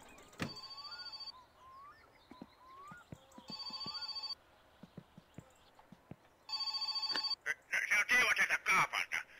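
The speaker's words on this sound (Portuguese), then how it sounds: "O telefone tá tocando, vou agilizar lá pra gente atender, mano." A telephone rings in the video game My Summer Car, with bursts of a harmonic electronic ring at about 1.5–4 seconds and again near 6.5 seconds, mixed with clicks, scattered game noises and loud clattering toward the end.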